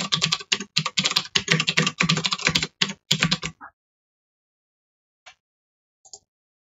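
Rapid bursts of typing on a computer keyboard during game prototyping, dense clusters of keystrokes for about three and a half seconds, then silence broken by two isolated key taps.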